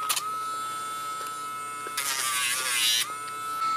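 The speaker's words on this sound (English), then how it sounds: "the nice thing about the Dremel is it will give a smooth nail." A Dremel rotary tool grinds a Cavalier's nails with a thin, steady high-pitched whine, briefly dropping and then growing louder and rougher for about a second as it bites into the nail.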